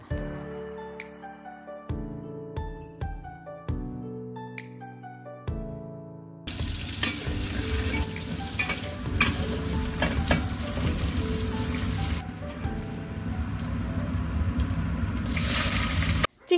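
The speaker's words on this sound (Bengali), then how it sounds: "এখন লবণ আর হলুদ গুঁড়ো আর মরিচ গুঁড়ো দিয়ে হালকাভাবে ভেজে নেব" Shrimp seasoned with salt, turmeric and chili powder sizzles steadily in a hot pan, a loud, dense frying hiss that begins after several seconds of melodic tones.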